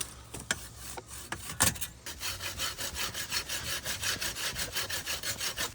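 A saw rasps in a steady back-and-forth rhythm while roots and brush are cut away from an old garden cistern on an Italian island, preceded by a few sharp snaps and knocks.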